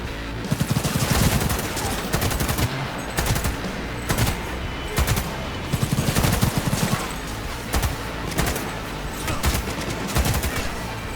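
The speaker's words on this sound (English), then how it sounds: "I think what I'll do is see if I can't shoot some of them through this gate" Repeated bursts of rapid automatic gunfire in Cyberpunk 2077, shooting at enemies through a gate, loud and close, firing in clusters with short pauses between volleys and no talking.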